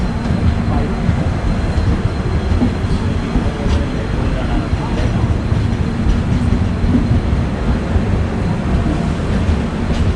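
A passenger train runs at speed, heard from inside an S5 coach: a loud, steady roar and rumble of the wheels and carriage with faint clatter, continuous throughout.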